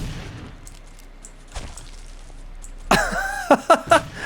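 Gunfire in a Civil War video game: a few sharp shots near the end, preceded by quieter background rumble and a brief thump, fairly close.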